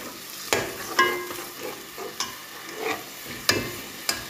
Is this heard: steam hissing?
no